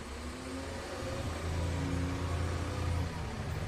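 Big truck engine driving in a video game, a low, steady mid-pitched hum with a gentle rise in revs partway through, moderately faint and with no talk over it.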